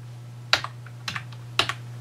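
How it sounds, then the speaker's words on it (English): Typing on a Logitech keyboard paired with an Onyx Boox Nova Pro e-ink tablet, giving three sharp, close key clicks spaced about half a second apart over a steady low hum. "And you can see I'm using a Logitech keyboard right here"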